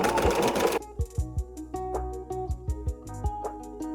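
Sewing machine stitching a quilt, a rapid whir at first, then slower, distinct needle thumps in an uneven rhythm, close and clear.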